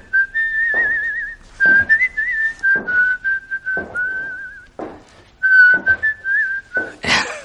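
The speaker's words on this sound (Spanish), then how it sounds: "silbando entre dientes, se fue a la cocina" A man whistles through his teeth, a wavering, tuneful melody in short breathy phrases, close and clear with gaps between notes, ending in a burst of noise.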